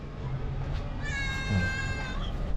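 A cat lets out one long, drawn-out meow over a steady rush of outdoor background noise.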